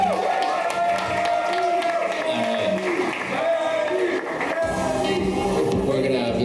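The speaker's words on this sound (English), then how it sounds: "Guys, clap it up for Daniel." A studio audience on a matchmaking show claps for a contestant, a steady, full wash of applause with crowd murmur and a voice talking over the clapping throughout.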